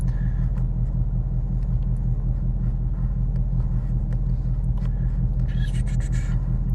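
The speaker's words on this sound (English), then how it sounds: "It's just remote started." A 2021 Ford Mustang Mach 1 idles after a remote start, its engine giving a steady, loud low rumble that holds constant throughout with no revving.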